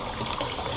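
Water rushing steadily through the internal overflow of a newly fitted bathroom sink on a vanity unit, a brief close gushing hiss without speech.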